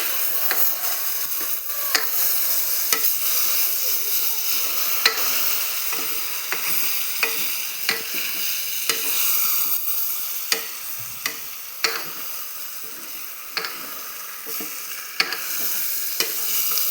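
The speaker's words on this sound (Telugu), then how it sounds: "ఇవి కొంచెం మగ్గేంత వరకు ఫ్రై చేయండి" Four large chopped tomatoes fry in a pan with a steady sizzle, while a spatula scrapes and taps against the pan at regular intervals throughout.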